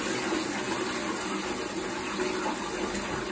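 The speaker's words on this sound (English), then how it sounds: "please flush my toilet" A toilet flushes, a steady loud rush of gushing, filling water that runs on without pause and with no voices over it.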